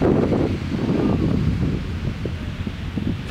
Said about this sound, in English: you just hear the wind and you can feel the wind also